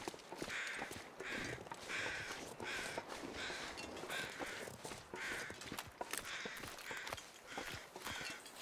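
Crows cawing in the survival video game The Long Dark, a series of harsh repeated caws spread across the clip, moderately loud over a low rustling background, with soft footstep-like crunches and no talking.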